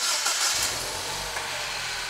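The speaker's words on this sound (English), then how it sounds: "let's go start the vehicle again" A 2011 Mini Cooper S R56 with a random misfire starts up, the engine catching and settling into a steady, loud idle close by with no talk.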